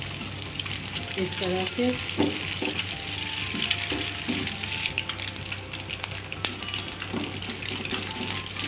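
Loud, continuous sizzling in a pan while frying for chicken fried rice, with scraping stir strokes throughout and a brief spoken remark over it.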